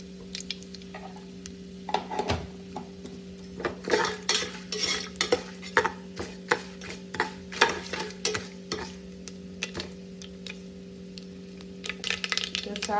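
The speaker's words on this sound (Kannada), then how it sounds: "ಒಂದು ಚಮಚದಾಟು ಸಾಸಿವೆ ಪಾಡ್ದು ಅದನ್ನು ಫ್ರೈ ಮಾಡ್ಕೊಡು" A spoonful of mustard seeds fries in a pan for a pork curry under a soft steady sizzle. A metal spoon stirs and clatters against the pan in irregular close knocks, with a voice speaking in between.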